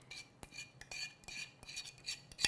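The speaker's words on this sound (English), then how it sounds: "We're going to mix this together." Keto brownie batter of eggs, vanilla and chocolate whisked in a bowl, quick rhythmic scraping and clinking of a utensil against the bowl, close and fairly quiet, with no voices.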